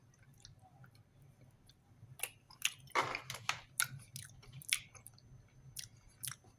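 Chewing a bite of pâté at breakfast in Poland: close, soft, irregular moist chewing and light crunching sounds, quiet and alone.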